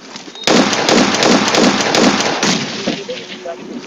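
A loud, close, sustained stream of rapid automatic gunfire in the video game PUBG Mobile, hammering for about two seconds before tapering into scattered distant shots.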